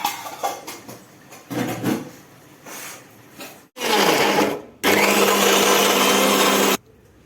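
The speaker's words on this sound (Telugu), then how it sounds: "జీలకర్ర ఒక చెంచే గ్రైండ్ పట్టుకోవాలి కచ్చపచ్చ" A kitchen mixer grinder coarsely grinds soaked tamarind and cumin for coconut chutney, whirring loudly in two bursts, a short one and then a longer steady run, after some handling clatter.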